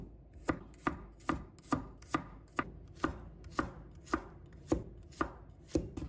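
Knife chopping garlic into small pieces on a cutting board, with about fifteen sharp, evenly spaced chops that ring out close and clear, with no voices.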